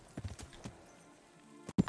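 Horse hooves clip-clop in the medieval role-playing game Kingdom Come: Deliverance, a few soft footfalls early on and louder thuds near the end, with faint game ambience and no talk.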